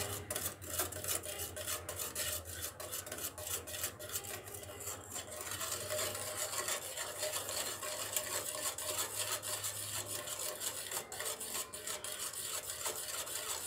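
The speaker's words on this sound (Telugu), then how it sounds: "మీడియం ఫ్లేమ్లో పెట్టుకొని మీరు ఇలా కలుపుతూనే ఉండండి 5 to 5 మినిట్స్" Homemade chocolate syrup of cocoa powder and sugar syrup being stirred in a pan over a medium flame: a continuous raspy scraping and rubbing of a spoon against the pan, steady and close, with no talk.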